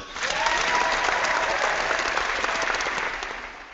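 An audience applauds together in a dense, steady burst of clapping that rises quickly, holds for a few seconds and then tapers off.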